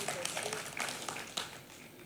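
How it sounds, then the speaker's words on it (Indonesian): A church congregation breaks into broad, dense applause, a steady wash of clapping with a few sharper claps standing out, at fairly low level for about two seconds. "Tepuk tangan yang paling meriah"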